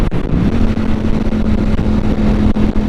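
A Ducati Panigale V4 sport motorcycle engine runs loud and close, a steady throbbing roar with a deep uneven pulse, holding near one pitch with slight revving.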